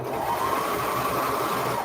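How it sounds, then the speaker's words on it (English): A sewing machine stitches an elastic band onto a shirt, giving a steady, even mechanical whir that runs unbroken at moderate volume, close by. "So I'm just sewing around, getting this band on."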